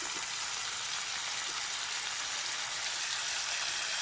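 Chili powder and cumin powder fry in hot oil for a winter vegetable khichuri, giving a steady, even sizzle that runs close and moderately quiet without a break.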